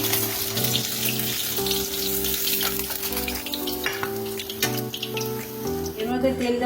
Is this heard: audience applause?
no